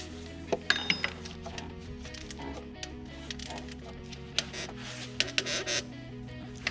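A ratchet or wrench tightens alternator bolts on a 2003 Honda Accord EX-L 3.0L V6, heard as scattered light metallic clicks and clinks over a low steady hum, close and fairly quiet, without talk.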